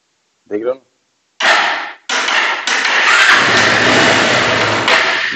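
A Bajaj Pulsar 180 motorcycle with a starting fault cranks on its self-starter in two long bursts after a brief spoken word, then catches and runs steadily, close and loud.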